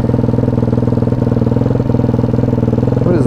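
A Daytona 212cc engine on a Grom clone motorcycle runs at wide open throttle, a loud, steady, rapid thumping drone held close for the full few seconds, with a brief higher flutter near the end.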